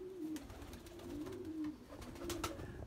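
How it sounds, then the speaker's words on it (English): Pigeons, including fantails and tipplers kept in a racing loft, coo softly in repeated low rolling phrases, fairly close and quiet with faint background clatter and no talking. "We've got a couple of fantails, a couple of tipplers there as well."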